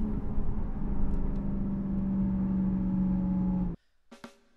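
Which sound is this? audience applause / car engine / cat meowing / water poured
car engine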